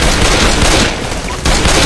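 Dense, continuous gunfire from Left 4 Dead 2, loud and sustained across the whole moment with a brief dip in the middle before the shooting surges back.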